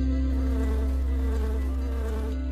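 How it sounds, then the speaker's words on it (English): Steady, continuous buzzing of a bee near a honeycomb nest on a tree, loud and close with a constant droning hum and no voices. "A male bee is getting ready to start its work for the day."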